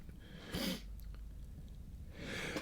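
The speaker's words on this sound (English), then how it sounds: "I was hoping to ignore that sneeze" A pair of short, breathy sneeze-like bursts, one early and one near the end, fairly close but quiet, with soft room noise between and no talking.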